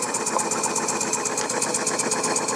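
Small puffer steam boat engine running close by, a steady mechanical chugging with rapid, regular popping pulses over a constant hiss, with no talk.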